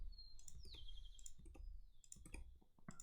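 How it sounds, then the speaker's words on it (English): Crisp computer mouse clicks come during audio editing at a desk, several quick sharp ticks scattered irregularly over a quiet background, close and fairly faint. "What I'm doing is I'm just clicking in different parts."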